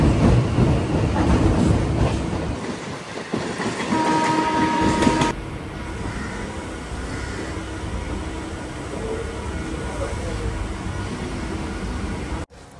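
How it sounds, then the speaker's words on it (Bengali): A local train leaves Sealdah station in Kolkata and runs along the rails. A loud, dense rumble fills the first few seconds, then drops to a quieter, steady rolling clatter of wagons that continues to the end. "ট্রেন কিন্তু ছেড়ে দিয়েছে।"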